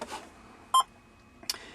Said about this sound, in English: This is your half width alarm.